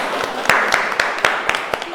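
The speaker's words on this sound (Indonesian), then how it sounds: "Tepuk tangan." Sparse, scattered clapping from a small audience at an Islamic outreach teaching session, a few distinct claps spaced irregularly over two seconds, fairly close and moderately loud with no talk over it.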